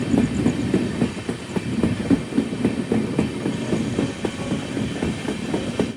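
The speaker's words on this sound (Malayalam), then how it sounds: "ആലപ്പുഴ ധൻബാദ് എക്സ്പ്രസ് ഇതാ കടന്നു വരുന്നത് കാണാം." Alappuzha Dhanbad Express rolling into a station, steady rhythmic clickety-clack of wheels over rail joints with a continuous low rumble, close and moderately loud throughout.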